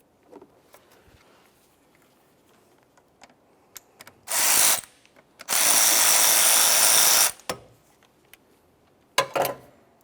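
A ratchet works a 10mm nut off the alternator of a 2001-2005 Ford Sport Trac XLT, giving two loud buzzing bursts, the second longer, plus scattered clicks and a final short double burst.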